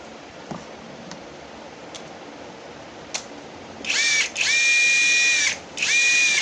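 A Power Bilt 21V cordless heavy-duty impact driver rated at 550 Nm: a few faint clicks and ticks, then the motor whines up loudly in two close bursts, one brief and one longer, with a short pause between them.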